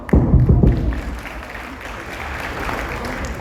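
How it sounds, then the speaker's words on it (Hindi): Clapping from an audience at a goal-setting seminar at a resort in Silvassa: a short, dense burst of hand claps up front that quickly thins and fades into room noise. "आपके लिए मैं तालियां मारता हूं"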